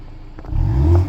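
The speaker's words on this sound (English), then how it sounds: "Now you can hear the exhaust of the MINI Clubman S" Exhaust of a 2023 MINI Cooper S Clubman wagon, a low engine rumble that swells into a short throaty rise as the car pulls away, close and alone.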